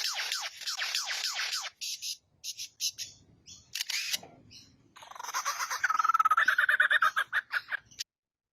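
A lyrebird mimicking sounds, with rapid mechanical camera-shutter-like clicks and bursts followed by a warbling, whistled song phrase and a run of sharp repeated chips, close and clear with no talk.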